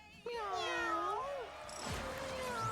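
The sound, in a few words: cat meowing in video game Mewgenics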